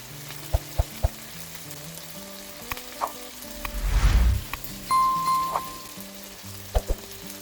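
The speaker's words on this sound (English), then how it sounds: "Fry the onion." Onion fries in a pan for a chicken-in-sauce dish, a gentle background sizzle broken by scattered utensil taps and clicks, with a louder burst of hissing and stirring midway.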